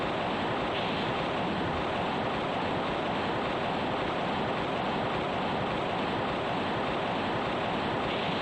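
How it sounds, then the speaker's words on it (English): A loud waterfall in the King's Field game pours as a steady, dense roar of rushing water that holds unchanged throughout, with no voices over it. "The waterfall is very loud."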